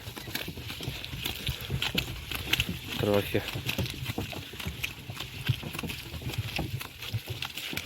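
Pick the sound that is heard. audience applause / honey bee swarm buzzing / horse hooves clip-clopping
horse hooves clip-clopping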